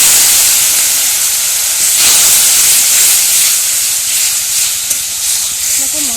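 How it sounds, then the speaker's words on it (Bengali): Spice paste of turmeric and red chilli powder frying for a cabbage curry, a loud, steady sizzling hiss that fills the whole stretch, with no voice over it. "মশলাটাকে একটু ভালো করে একটু কষিয়ে নেব"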